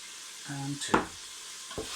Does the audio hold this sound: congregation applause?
no